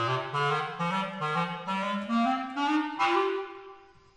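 Bass clarinet plays a short étude passage with overly clipped, detached articulation, the notes chopped apart instead of carried through on the air; a close, solo line of about seven separated tones that rise gradually in pitch.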